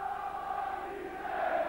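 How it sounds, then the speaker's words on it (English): A big rugby league crowd of roughly ten thousand at a night match between St Helens and Widnes, heard as a steady, loud roar with rising cheers and no clear breaks. "as you can hear under the podium here, the popular side crowd are erupting"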